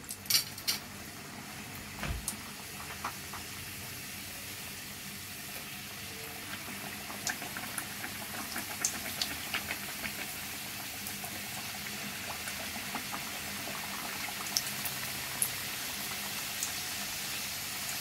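Halwa-filled gujiya deep-frying in hot oil: a steady, dense bubbling hiss that runs the whole time at an even level, with a few faint clicks and no talking.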